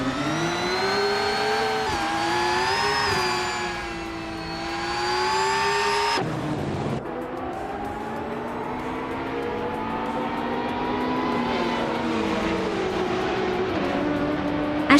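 Race cars roaring around the Korean Grand Prix track in a racing video game, led by a classic 1984 Ferrari 288 GT, with a sustained high engine whine rising and falling through gear shifts, loud and continuous, with no talk.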